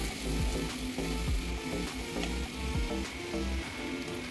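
A spice paste sautés in a pan, giving a soft continuous sizzle with a few faint stirring scrapes, close but fairly quiet.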